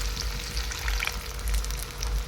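Chicken pieces frying in a pan for chicken curry with whole garlic and tomato, a steady close sizzle with a constant crackle and small surges, no voices.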